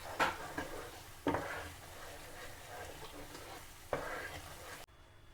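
Garlic pickle heats and fries in a pan with a soft steady sizzle, broken by a few louder stirring scrapes of a spoon against the pan; no one speaks.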